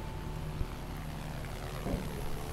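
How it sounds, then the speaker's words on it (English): A helicopter in the video game Project Zomboid drones as a steady low rotor hum in the distance, constant and moderately faint throughout. "There's a bunch of zombies headed towards the sound of the helicopter"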